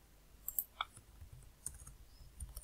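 Sparse, quiet clicks of computer keyboard shortcut presses during web programming work, a few separate taps spread across a couple of seconds with faint background hiss and no talk.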